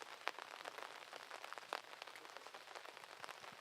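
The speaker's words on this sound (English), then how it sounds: "as the rain's coming down" Rain falling on a disc golf course during a Canadian national championship round, a dense, faint patter of drops with scattered sharper taps throughout.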